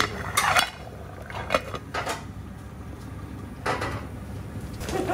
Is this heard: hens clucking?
no